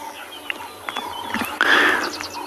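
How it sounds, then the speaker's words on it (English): Dawn safari birdsong with emerald spotted wood doves, scrub robins and other doves calling, scattered chirps and cooing notes over soft outdoor ambience, growing busier toward the end. "And it's mostly emerald spotted wood dove"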